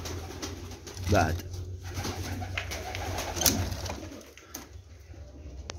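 Pigeons coo softly beneath someone speaking nearby, with low murmuring calls and a faint background hum.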